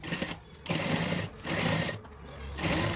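A sewing machine stitches down fabric pieces in three or four separate bursts of running, each lasting about half a second to a second, with short pauses between them. It sounds close and fairly loud.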